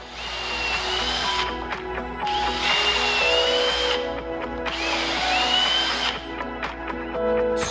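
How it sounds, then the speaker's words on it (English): Power drill boring holes into lumber held in a jig, a loud close whine that surges in long steady passes, drops briefly between holes and starts again, with wood grinding under the motor. "I'm going to loosen the jig, shift it to the other side, and drill 3 additional holes."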